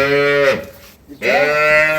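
A high-yield dairy cow moos twice nearby on a dairy farm, two loud drawn-out calls separated by a brief pause.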